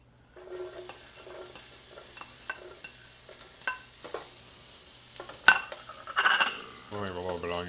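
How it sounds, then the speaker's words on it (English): Onions cooking in oil in a pan, with soft sizzling under repeated stirring and scraping of a utensil, light clinks of cookware, and a louder clatter near the end. "But we're gonna put in our a little bit of onions here."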